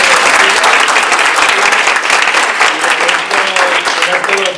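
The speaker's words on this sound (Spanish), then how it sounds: "Nos demos un fuerte aplauso a todos." A large crowd at the closing of an arts education training gathering breaks into loud, sustained applause, thick and close, with scattered voices and cheers rising through the clapping.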